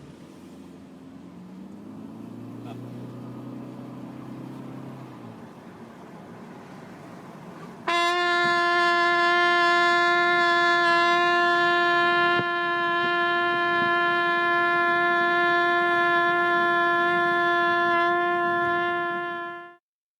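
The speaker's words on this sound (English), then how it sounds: "First, we'll ride with the trumpet to see how it sounds." A trumpet sounds a loud, steady sustained note inside a moving car, holding one constant pitch for about twelve seconds over the low hum of road noise.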